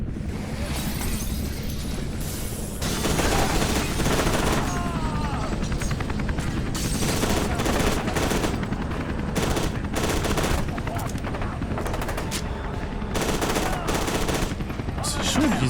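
Constant gunfire from F.E.A.R. 2, a video game, with rapid automatic bursts and heavy shots repeating over nearly sixteen seconds, loud and dense with only brief breaks.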